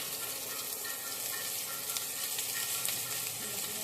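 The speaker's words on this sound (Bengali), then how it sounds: "আমি এবার কোরিয়ান সস করতে রসুন কুচি দিয়ে দিলাম" Garlic sizzles steadily in hot oil, a bright continuous crackle and hiss that stays even throughout with no voices.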